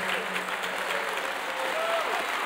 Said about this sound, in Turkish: Güçlü bir alkış diyorum onlar için.